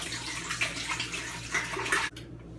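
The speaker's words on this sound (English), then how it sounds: "First step is to add 1 gallon of water" Tap water running steadily into a pot to fill it for brewing kombucha, a continuous close splashing rush that stops abruptly near the end.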